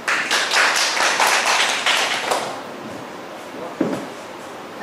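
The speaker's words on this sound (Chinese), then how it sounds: "我们现在 鼓掌欢迎 啊，这个来宾啊" An audience claps in welcome for a guest speaker at a social enterprise lecture, a brisk burst of hand claps that fades after a couple of seconds, followed by a few faint knocks and a single sharp tap.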